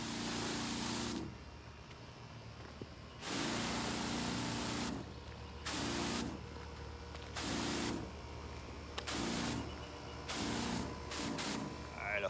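A PPC Total Turf Deluxe 5-boom sprayer applying Air-8 to a lawn gives off loud hissing spray bursts that switch on and off several times, alternating with a lower engine hum.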